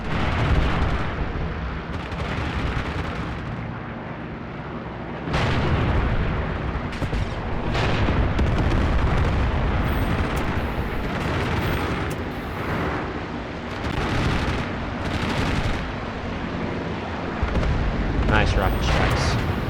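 Rocket strikes in the Graviteam Pivot Point war game: a continuous barrage of heavy booms and crackling blasts rolling on for many seconds, dense and loud, with sharp bursts punctuating the rumble.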